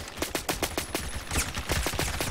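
Rapid automatic gunfire in the Phantom Forces shooter game, a steady rattling burst of evenly spaced shots running loud and close throughout, with no talk.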